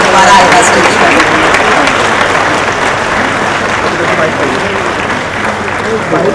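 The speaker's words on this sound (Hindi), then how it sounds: "ये तालियां रुकनी नहीं चाहिए" A large audience at an awards ceremony giving sustained, loud applause, many hands clapping steadily with crowd noise mixed in for several seconds without pause.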